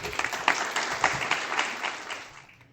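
Nursing students in an audience at an award ceremony clap together in a steady, moderately loud burst of applause that gradually fades out over a few seconds, with no talking.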